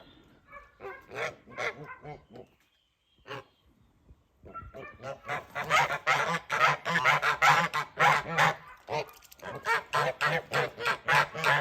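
Kholmogory geese honking repeatedly and loudly nearby, a flock's harsh calls overlapping in bursts, with a brief quiet pause before a denser stretch of honks.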